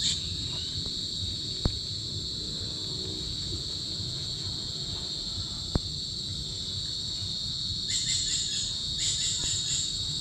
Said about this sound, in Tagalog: Marami na pong naririnig kayong kuliglig.